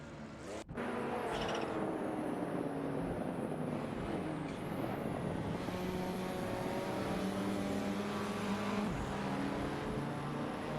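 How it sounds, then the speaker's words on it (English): AI-driven sportscars racing on Forli Circuit in a racing simulator game, a steady loud engine drone with shifting tones as cars pass, continuous and without talk. "we're watching some incredible racing cars driven by AI in a simulator"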